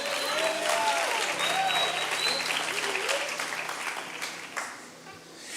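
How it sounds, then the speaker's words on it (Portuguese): Church congregation applauding to honour the name of Jesus during a worship service, a dense, sustained wash of clapping from a large crowd that thins slightly toward the end. "Vamos aplaudir o nome de Jesus."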